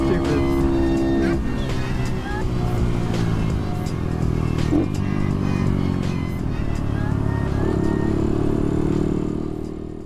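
Small Honda Grom motorcycles race together, their high-revving single-cylinder engines whining loudly and continuously up close, with pitch rising and falling through the run while a rider talks over the noise.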